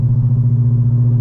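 A 5.7 Hemi V8 engine hums at steady load while merging onto the interstate, a loud, close low-pitched rumble that stays even across a brief moment with no audible revving change.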